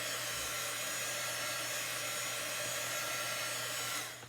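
A small handheld hair dryer blows steadily on chalk paste, a loud continuous whooshing hum that holds even throughout and cuts off near the end.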